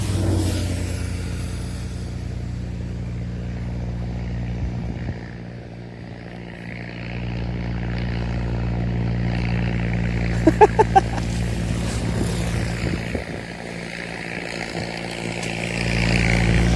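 A scooter engine drones steadily on a long ride, a low continuous hum with wind rumble, dipping briefly midway and accompanied by a few brief clattering bursts.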